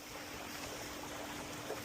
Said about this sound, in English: And I'm just gonna let this water run, agitate it.